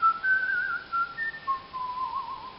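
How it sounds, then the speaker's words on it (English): A person whistles a wavering melody of several sustained notes, some sliding up and down between them, close and clear with no other sound. "I have two techniques of whistling."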